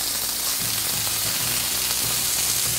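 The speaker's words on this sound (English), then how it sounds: "Beautiful searing going on." Thick lamb steaks, over an inch thick, searing in a hot pan with a constant loud sizzle and occasional faint pops and spatters.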